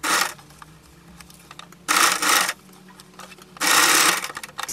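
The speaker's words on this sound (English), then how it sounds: "So I went ahead and sew in the darts." Three loud runs of a sewing machine stitching darts into dress front and back pieces, each lasting under a second, with quieter fabric handling between them.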